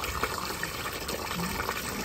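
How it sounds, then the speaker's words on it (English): Water runs steadily through a saddle valve into an aquaponics system, a continuous close hiss and gush of flowing liquid with no talk. "if I open up the saddle valve full open, the water flow is very much less"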